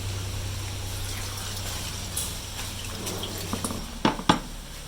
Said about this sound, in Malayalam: അണ്ട വെള്ളം ഒഴിച്ചേ